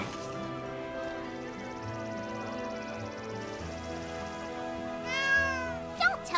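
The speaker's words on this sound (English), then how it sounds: "It's just a cat." A cat meows in the video game Granblue Fantasy Relink, a short mewing call near the end, set over a steady layer of game music.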